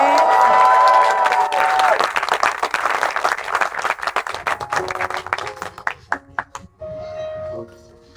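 Audience at an alumni show breaks into loud applause and cheering, a dense burst of claps that thins into scattered individual claps, followed by a sung melody.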